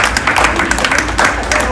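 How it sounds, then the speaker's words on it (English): Applause from an audience in a room at an Invest Atlanta event, dense steady clapping sustained throughout, fairly loud and close with some crowd murmur mixed in. "told you to clap for him."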